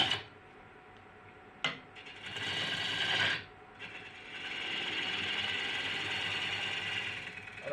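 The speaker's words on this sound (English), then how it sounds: "I drive bowl gouge in and then sweep that side away" A bowl gouge is driven into spinning wood on a lathe while roughing out, giving a steady, fairly loud scraping, chattering cut with brief pauses and a sharp knock between passes.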